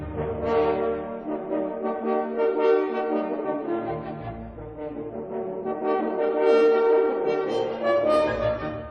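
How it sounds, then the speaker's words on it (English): Natural horn playing the rising scale from the end of Beethoven's Eroica Symphony, sustained brass notes over orchestra, loud and continuous, with the steps sounding less even as the line climbs. "Well, a natural horn would sound like this."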